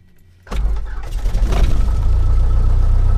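A light aircraft piston engine starting up at Caldwell Airport: near-silence, then the engine catches abruptly and settles into a loud, steady, low rumbling drone close by.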